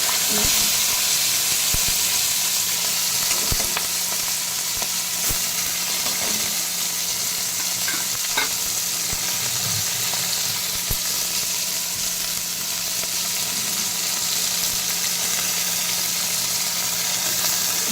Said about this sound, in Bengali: পুঁটি মাছগুলো হালকা ভেজে নেবে বেশি ভাজবো না হালকা ভেজে নেবে